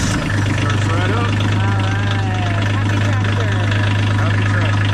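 A tractor engine idles as it warms up in the cold at an Alaska homestead. It gives a loud, steady, close low hum with a constant throb, and someone talks over it.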